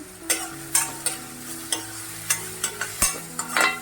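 Onion and a crushed ginger, garlic and green chili paste sautéed in a pan for a sprouted green moong dish, with repeated scraping stir strokes over a steady close sizzle and no voices.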